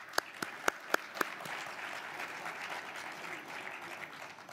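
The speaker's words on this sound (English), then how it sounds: "Let's give them a warm applause and a welcome." An audience at a World Economic Forum panel on Africa welcomes the guests with applause: a few sharp, loud claps up close at first, then a sustained, even wash of crowd clapping.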